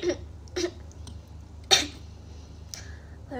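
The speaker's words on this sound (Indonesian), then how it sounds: "Baru udah selesai kok batuk ya. Itu tadi berdeham doang." A young woman clears her throat in a few short, faint bursts during a quiet indoor live stream, with a louder rasp in the middle.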